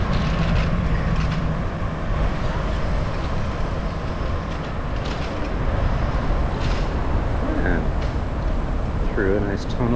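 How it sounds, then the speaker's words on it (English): A Paris tram rolling along a grass-covered track, heard as a steady, loud rumble mixed with city traffic and wind, with a few brief squeals near the end. "You see in the grass here, that's where the streetcar goes, the tram."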